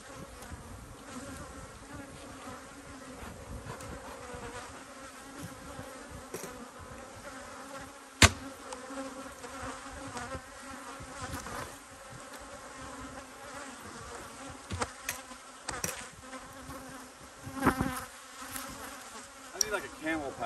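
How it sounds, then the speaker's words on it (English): A dense swarm of honey bees hums steadily at a working apiary, up close and constant, with occasional bumps and handling clatter. "A lot of bees over there."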